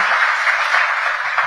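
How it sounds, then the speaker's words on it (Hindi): Audience clapping for three guests at a Hindi-language talk event, a short burst of dense, steady applause heard on its own. "एक बार फिर से जोरदार तालियां हो जाएं हमारे तीनों खास मेहमान"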